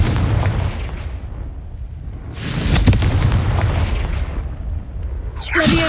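Booming fire-spell explosions from the Hogwarts Legacy video game, a loud burst rising mid-clip over a continuous rumbling game backdrop, with a sharper crackling impact near the end.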